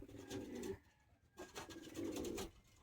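Two bursts of soft, throaty cooing come from a short-sized high-flying pigeon at a Bagnan, Howrah loft sale, close by, separated by a brief quiet gap, with no talk.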